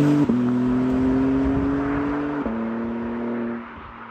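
A BMW M3 CS drives with a steady engine drone and a slight shift in pitch midway, as if changing gear, sounding close and continuous without any talking.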